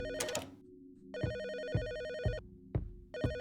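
A phone in a video game rings with an electronic trilling tone in repeated bursts, close and clear, with short thumps between the rings and no speech.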